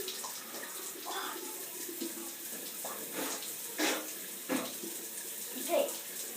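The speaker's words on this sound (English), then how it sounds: "This water is freezing cold." Cold shower water runs in a steady hiss, with irregular splashes and spatters as someone moves under the stream; a voice talks intermittently over it.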